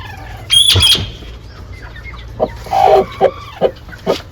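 Hens clucking in a backyard farmyard where eggs are being collected, with a few loud close squawks followed by a run of short, evenly spaced clucks over a low steady background.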